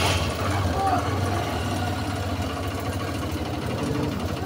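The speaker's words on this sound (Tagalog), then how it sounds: "buo na yung ating makina. At ngayon naman ititestingin natin" A Honda CB125 tricycle engine runs steadily during a test after being rebuilt, a rapid mechanical patter with a low throbbing idle, heard moderately close and fairly quiet.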